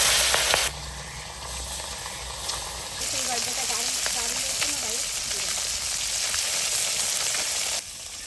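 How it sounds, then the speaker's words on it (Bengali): River chela fish frying in mustard oil in a covered wok makes a loud, dense sizzle that starts abruptly and holds steady, with a faint voice briefly audible partway through. "কড়াইটা চাপা দিচ্ছি, মাছটা ভাজবো"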